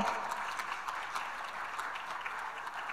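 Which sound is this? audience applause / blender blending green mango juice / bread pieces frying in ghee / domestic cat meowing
audience applause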